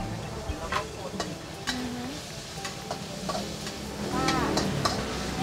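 Chicken frying in hot oil for Thai garlic and pepper chicken, a steady close sizzle with scattered clicks and taps of a utensil against the pan.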